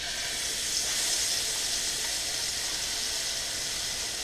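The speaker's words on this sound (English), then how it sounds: "This part is what we call chunking the curry because it's sizzling with the hot oil." A curry mixture for Guyanese goat curry sizzles in hot oil, a steady, even hiss of frying that holds unbroken throughout at moderate volume with no talking over it.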